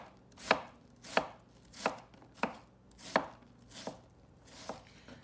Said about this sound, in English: Now I'm going to turn and just cut perpendicular to those first cuts and make a really fine diced onion.